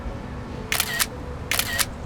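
Two crisp camera shutter clicks from a single-lens reflex camera, each a short bright double snap, spaced well apart over a quiet background.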